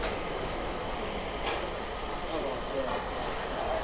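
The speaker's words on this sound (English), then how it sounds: "Beautiful, beautiful steam engine." Steam locomotive Tornado rolling through a railway station, heard as a steady, fairly distant rumble with faint rail clatter and a brief hiss, continuous throughout with no clear speech.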